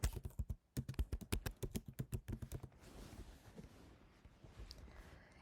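Fast, close keystrokes on a computer keyboard rattle out a burst of typing as a project name is entered, then stop, leaving quiet room noise with a few faint taps.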